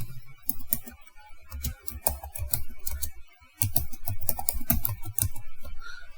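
Keystrokes on a computer keyboard as a search is typed into Google on a Windows PC, a steady run of close, crisp clicks with a short pause midway, no talking.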